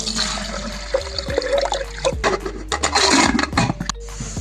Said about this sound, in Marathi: त्याच्यात पाणी टाकू.